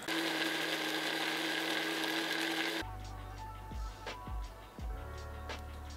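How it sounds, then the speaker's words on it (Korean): A blender whirs loudly and steadily for a few seconds grinding a salad dressing with lemon and chili peppers, then cuts off, leaving quiet background with a few soft knocks and faint voices. "이거를 믹서기에 갈아줄 거예요"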